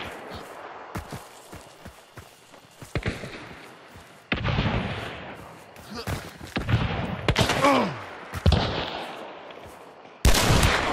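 Gunfire in the game Hunt: Showdown: several loud, sharp shots and short bursts with echoing tails, some near and some farther off, amid ambient noise and occasional talk.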